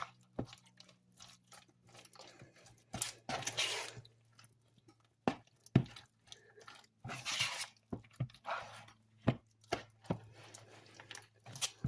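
A knife chops green onions on a cutting board in sharp, irregular knocks, with crisp crunchy cuts in short bursts and brief pauses between strokes, fairly close and quiet.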